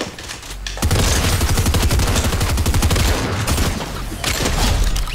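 Rapid gunfire in the video game Fortnite, a loud, fast burst of repeated shots fired in quick rhythm for several seconds after a short quiet lead-in.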